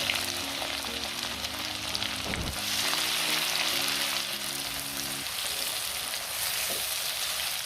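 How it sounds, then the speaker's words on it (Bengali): Crushed garlic and onion frying in hot oil: a loud, dense sizzle crackles continuously close by, swelling briefly midway, and no voices are heard over it. "তেলটা গরম হয়ে গেছে, এবার আমি এর মধ্যে দিয়ে দিচ্ছি ক্রাশ করে রাখা রসুনটা"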